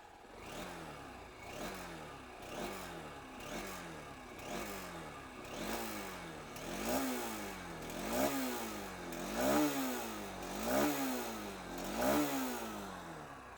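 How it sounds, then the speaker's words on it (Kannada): A Honda SP 160 motorcycle's exhaust, revved repeatedly in rhythmic bursts about every 1.3 seconds, each rise and fall of engine pitch growing slightly louder, heard close with no talking. "ಇನ್ನು ಗಾಡಿ ಎಕ್ಸಾಸ್ಟ್ ನೋಟ್ ಕೇಳೋದ ಹೇಗಿದೆ, ಸೌಂಡು ಬೇಸಿ ಇದೆಯಾ ಹೇಗೆ ಅಂತ ನೀವೇ ನೋಡ್ತಾ ಇದ್ದೀನಿ ನೋಡಿ"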